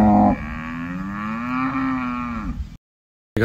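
On a farm, a cow gives one long, deep moo close by, sustained for over two seconds and then cut off, with no talking around it.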